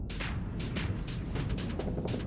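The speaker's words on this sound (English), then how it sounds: "that's not my missile, that's my ion cannon" Ion cannon weapons firing in the space combat game Starsector: a rapid series of loud, sharp energy blasts with noisy decaying tails, repeating about every quarter second over a dense rumbling background.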